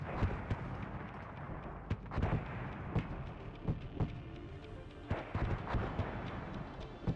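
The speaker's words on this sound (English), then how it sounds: "There's a lot of mortars dropping, and they're doing absolutely nothing to these guys." Mortar shells landing in the WARNO real-time strategy game, a steady series of dull thudding explosions at irregular intervals over a low rumbling battlefield background, moderately distant and without speech.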